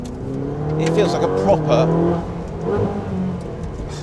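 Loud, continuous engine roar of a Ferrari 458 Speciale heard from inside the cabin while driving hard, with someone talking over the engine noise.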